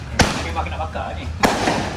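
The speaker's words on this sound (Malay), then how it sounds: "Mercun pun dah habis meletup." Two sharp firecracker bangs go off about a second apart, nearby and loud, with voices and background chatter in between.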